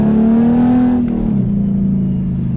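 A V6 Ford Mustang with a 4.0 engine revs hard as it accelerates past a garbage truck, its rising engine note peaking, then dropping with a gear change and continuing as a loud, close drone.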